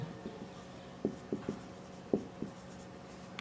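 Chalk or marker writing on a board during a Hindi-medium chemistry lesson, a handful of short taps and scratchy strokes in an uneven rhythm, faint against a quiet room, with no speech.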